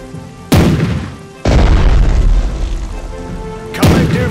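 Heavy naval gun salvos from a warship in the Strategic Mind: Blitzkrieg strategy game, Operation Sea Lion: three loud booming blasts with rumbling tails, the middle one long and sustained, no talking.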